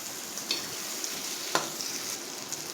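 Ridge gourd sabzi mixed with peanut paste is stirred in a pan, a faint soft sizzle under a few light scrapes and clinks of a spoon, one sharper knock standing out midway.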